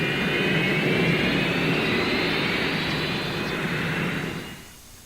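Jet airplane engine roars loudly and steadily in a Southwest Airlines TV advert, then fades off sharply at the end.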